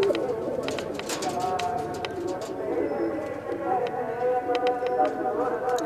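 Racing pigeons of the Rajan line coo in a steady, low murmur throughout, with scattered chirps and fluttering noises nearby while someone talks over them.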